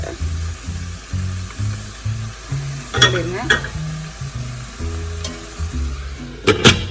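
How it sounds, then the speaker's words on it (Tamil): Mutton liver fry cooking in a pan, a soft continuous sizzle with a few metallic scrapes and clinks of a spoon against the pan, plus a low tonal hum underneath. "இந்த மாதிரி மிக்ஸ் பண்ணிவிட்டு மூடி போட்டு வேக வைக்க போகிறோம். இந்த ஈரல் நல்லா வேகணும்."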